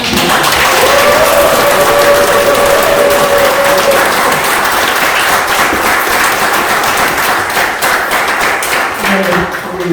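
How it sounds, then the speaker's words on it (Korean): Loud, sustained applause and cheering from an audience at a political academy graduation ceremony in Korea, steady and full for the whole stretch with a voice mixed in early on. "다시 한번 함성 박수"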